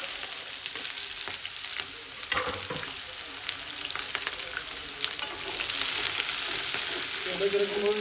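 Chopped onions fry in hot oil with cinnamon, star anise, cloves, cardamom and bay leaves for a mint chicken curry, a constant close sizzle with a few stirring knocks, swelling louder midway.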